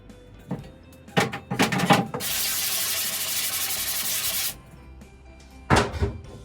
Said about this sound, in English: You want to scrub both sides, front and back